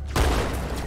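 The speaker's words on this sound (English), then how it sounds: "With my trusty shotgun." A shotgun fires once in Halo 2: Anniversary, a loud booming blast with a short rumbling tail, heard close and on its own.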